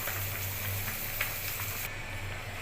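Fish and cauliflower curry sizzles steadily in hot oil in a pan, a continuous close frying hiss with no talk over it.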